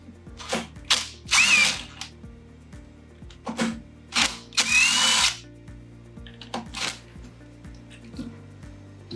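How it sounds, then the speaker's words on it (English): A powered torque screwdriver with a T25 bit drives screws while a pump is being serviced. Short close whirring bursts start and stop repeatedly over a low steady hum, with nobody talking. "So we're using a torque screw, it's a T25, gives you the right screws,"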